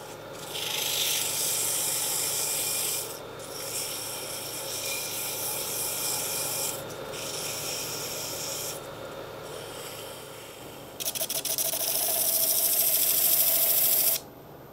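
A wooden coffee scoop handle is sanded in long, steady rasping strokes up close, with brief pauses between passes and a louder, brighter stretch near the end.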